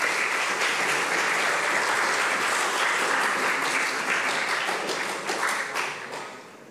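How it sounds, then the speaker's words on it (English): A lecture audience at an astronomy and astrophysics summer school breaks into sustained applause, dense and steady before thinning toward the end, with no speech over it. "An applause for Professor."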